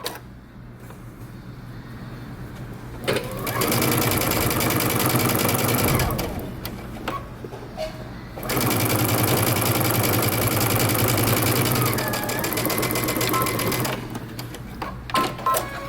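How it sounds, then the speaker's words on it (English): A sewing machine stitches a pocket onto the front of a bomber jacket, running in two long steady bursts of rapid mechanical clatter separated by short pauses, close and loud. "we're going to stitch the pocket down to our front along the bottom"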